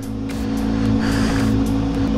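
A Kawasaki Z900 motorcycle engine on a cold start settles into a loud, steady low idle with a strong hum, close by and continuous, with a faint rasp rising midway.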